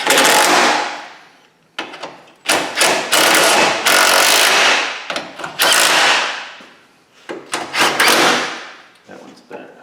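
A ratchet tightens a bolt on a Honda Civic damaged after hitting a raccoon, with loud, close bursts of clicking separated by short gaps and voices nearby.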